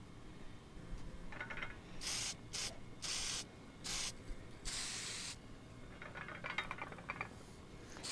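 Can of Krylon Crystal Clear finish sprayed onto a wooden desk sign: a series of short hissing bursts of varying length, close and fairly quiet against a low background.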